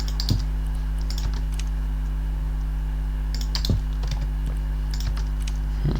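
Keyboard typing and mouse clicks during House Flipper 2 gameplay, a steady run of light, close taps with a few sharper clicks over a constant low hum, with no talking.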